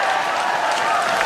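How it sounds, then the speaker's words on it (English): Loud, sustained applause and cheering from a large crowd at a Labour Party conference speech, a dense continuous roar with whooping filling the whole moment. "Now that's real applause."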